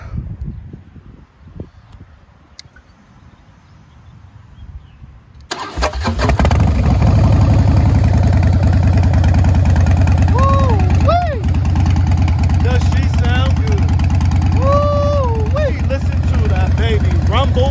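After a quiet stretch with a few small clicks, a Harley-Davidson Breakout motorcycle cold-starts and its V-twin settles into a loud, close, continuous rumbling idle with occasional small rises in pitch.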